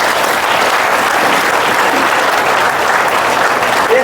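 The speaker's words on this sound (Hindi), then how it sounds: "जोरदार तालियां पिता के लिए" Audience at a Christian revival meeting applauding loudly and steadily, a dense, even wash of clapping with no break.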